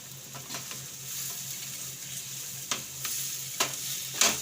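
Boiled potato filling for vada pav being mashed in a pan over low heat, a soft sizzle under occasional scraping and knocking strokes that grow more frequent toward the end.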